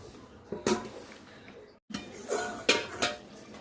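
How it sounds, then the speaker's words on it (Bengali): A lid is set on a pot of chicken curry cooking with green chillies, with a couple of metallic clanks and clatters followed by soft sizzling, close and moderately loud. "এই যে কয়েকটা কাঁচা লঙ্কা দিয়ে ঢাকা দিয়ে দিচ্ছি"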